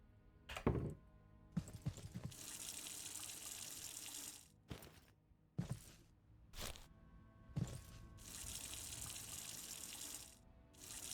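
Water being poured onto crops in The Last Farmer farming game, heard as several separate splashing gushes of running water broken up by short thunks and pauses.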